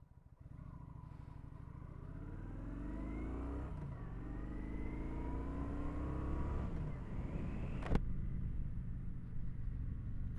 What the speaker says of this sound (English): Mind you, it is a big 900 fuel injected engine.